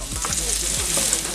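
Steady sizzle of frying chicken in a non-stick pan, with soft scraping as a wooden spatula stirs it, close up and continuous for a brief moment.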